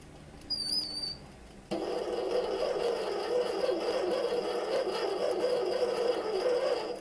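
A metal lathe cutting a thread, the cutter fed in by a compound set to 29 degrees, runs as a steady whirring, grinding drone that starts abruptly after a short quiet opening and continues evenly to the end.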